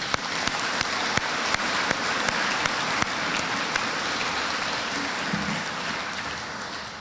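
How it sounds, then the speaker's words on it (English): A school audience at a Veterans Day program claps steadily, a broad wash of applause with a few sharper, louder claps punctuating it at regular intervals, no voices on top. "It's appropriate to clap for them."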